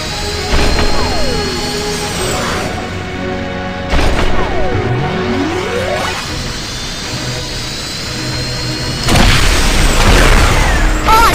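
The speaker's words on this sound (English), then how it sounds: "Press the button to accelerate the rocket." A rocket blasts off and accelerates in the Kiki astronaut kids' game, with booming whooshes, rising and falling synthetic tones and bright musical chimes surging in bursts throughout.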